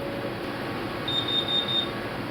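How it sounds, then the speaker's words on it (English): A carbon monoxide alarm in a metal workshop sounds a short series of about five thin, high electronic beeps in a quick row, faint and distant over a steady background hum. "There's a carbon monoxide alarm in here somewhere."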